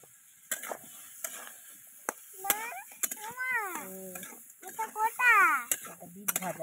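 Beetroot sizzles in a pan while a metal spoon scrapes and clinks against it in irregular strokes, with speech-like voices and chirps layered over the close, moderately loud cooking sounds.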